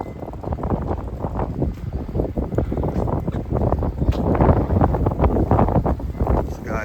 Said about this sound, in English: And here comes that old north wind.